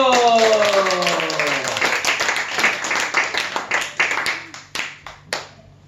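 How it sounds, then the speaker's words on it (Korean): A church congregation at a New Year worship service claps together, first as full applause with a voice sounding over the start, then thinning into separate, spaced claps that fade out. "자, 우리 주님께 감사와 영광의 박수 드려요."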